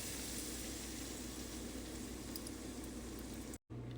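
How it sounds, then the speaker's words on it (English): Water boiling in a pot for pasta, a continuous bubbling hiss with faint low rumble, steady and moderately quiet, briefly cutting out near the end. "I'm going to start boiling the water for the pasta."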